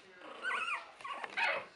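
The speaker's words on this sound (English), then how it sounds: "Here's the puppies." Newborn puppies whimper and whine in short high-pitched bursts, close by and fairly quiet.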